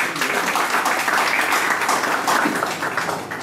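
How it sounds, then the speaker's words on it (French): Audience at a hypnosis stage show applauds, a brief burst of dense clapping from a crowd in a hall. "Et on peut les applaudir d'une bonne main."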